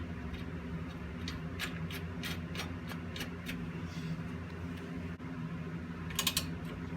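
Ratchet clicks in short bursts while a car's ball joint nut is tightened on the front passenger suspension of a 2005 Honda Civic, over a steady low hum from the garage, with a brief louder flurry near the end.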